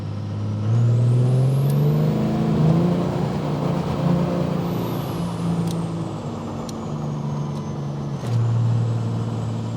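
A diesel pickup truck engine drones steadily at low revs while cruising in second gear, pitch rising and falling gently with shifts in load, with wind and road noise throughout.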